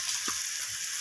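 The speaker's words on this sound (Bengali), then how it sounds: "তো আদা বাটাটা দিয়ে আমি আলুর সাথে আবারও মিশিয়ে নিয়ে কষিয়ে নিচ্ছি।" Potatoes with spices and ginger paste fry in a pan, making a soft, steady sizzling hiss with one faint stirring scrape, brief and fairly quiet.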